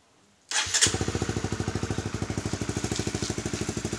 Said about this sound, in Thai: ลองมาสตาร์ทฟังดูว่าเสียงมันจะลดลงไปมากน้อยแค่ไหนนะครับ